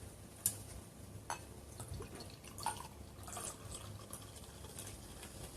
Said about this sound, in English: It's bubbling. I want y'all to hear.